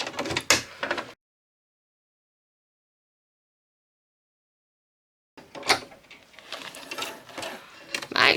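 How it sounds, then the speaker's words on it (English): A sewing machine stitches around a crafting project, close rattling bursts of stitching at the start and again after a long silent gap, with no talk. "So let me just quickly sew around here"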